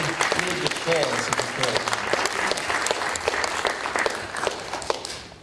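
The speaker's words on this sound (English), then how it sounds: "Yes, another round of applause." Audience applause at a live commedia talk and performance event, steady clapping throughout with some voices and a brief cheer mixed in, fading at the end.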